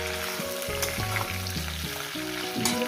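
Potatoes, beans, eggplant, bori lentil dumplings and pea greens frying in a pan without water: a steady, close sizzle with occasional stirring, under background music and with no talking.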